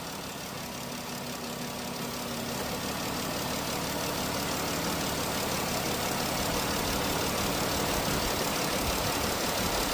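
A Dodge Grand Caravan idles steadily up close, its engine a constant broadband rumble with a faint mid-range hum that shifts slightly as the AC compressor cycles on and off, no voices present.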